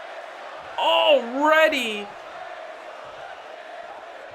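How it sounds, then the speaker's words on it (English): Crowd noise from the WWE 2K20 wrestling video game at a Super Showdown pay-per-view: a steady arena roar runs underneath throughout, while a person briefly shouts over it. "you can hear the crowd once again"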